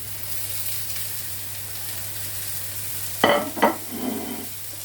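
Meat for bolognese frying in a pan, a soft steady sizzle with a steady low hum beneath, then a couple of louder crackling bursts as pieces hit the hot surface, close and alone without voices.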